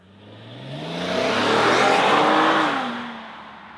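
An Infiniti QX70 SUV with a 3.7-litre naturally aspirated 320 hp engine accelerates away, the revs climbing through gear changes as the roar swells loud in the middle, then fades into the distance; no one talks.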